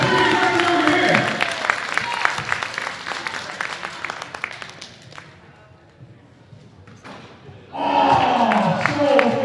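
A crowd at a college men's basketball game between Durham and Loyalist claps and cheers, loud clapping mixed with shouts that fades to a quieter lull before swelling again near the end.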